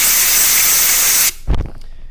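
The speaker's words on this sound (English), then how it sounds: "I'll take my air hose and blow that out." A steady, loud hiss of compressed air from an air hose blows debris out of the Torx screw recesses on a carbide-insert milling tool, then cuts off abruptly and is followed by a brief low thump and faint workshop noise.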